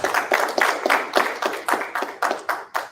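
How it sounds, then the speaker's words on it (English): An audience gives a round of applause at a business event on expanding ventures with South Korea, a steady run of roughly a dozen rhythmic clapping bursts, fairly close and moderately loud with no talking over it. "So another round of applause for"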